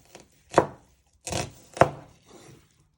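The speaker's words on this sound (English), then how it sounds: "Once you have peeled and chopped your ends off your onion, you first want to start slicing it." Knife slicing a peeled onion on a cutting board: four distinct close, crisp cuts with short pauses between, no talking.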